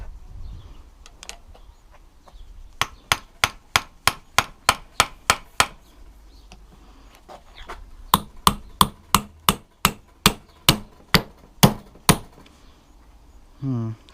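A screwdriver hammered against a motorcycle headset bearing gives a long run of crisp metallic strikes in two rapid, evenly spaced bursts with a short pause between, close and loud, followed by a brief voice at the end.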